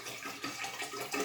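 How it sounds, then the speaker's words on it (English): One litre of water poured into a pitcher, a steady splashing gurgle that runs evenly for just over a second, close by and fairly quiet. "and if we pour it into the pitcher"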